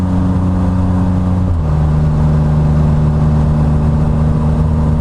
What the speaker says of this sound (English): Car coming, which is unusual out here